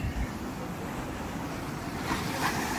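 Sea waves wash onto the beach at Kanyakumari, a steady broad rushing surf mixed with wind noise, with a slightly louder swell near the end.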